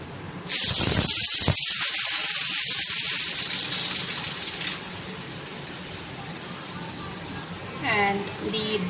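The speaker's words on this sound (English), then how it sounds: "I'm also going to add the other ingredients to the boiling water." Tomatoes and other ingredients for tomato rasam, an Indian dal-based soup, tipped into a pot of boiling water, giving a loud sudden hissing splash that settles into steady bubbling and sizzling, with a few faint clinks near the end.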